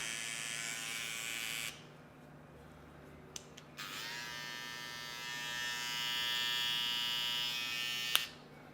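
A BaBylissPRO Gold FX3 electric hair trimmer buzzes steadily, stops briefly, then starts again with a higher whine, faint and close, with a small click near the end.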